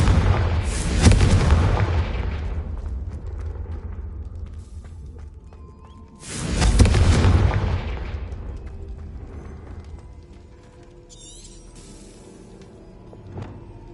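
A Confringo fire spell explodes in Hogwarts Legacy, two loud booming blasts a few seconds apart, each with a rumbling decay, followed by quieter game ambience and a small pop near the end.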